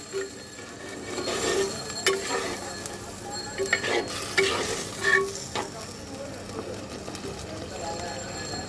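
Spice masala and potatoes fried and stirred in a clay pot for a goat meat curry, a continuous sizzle with repeated scraping stirs and light clinks, close and moderately loud.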